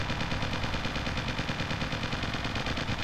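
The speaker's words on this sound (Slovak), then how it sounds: "tu máte vozidlo. Rotačným gulometom a môžete sa pozrieť, jak rýchlo niekomu klesli HPčka" A rotary machine gun mounted on a vehicle fires in the strategy video game Original War, a rapid, unbroken rattle of evenly spaced shots held at constant loudness for about three seconds.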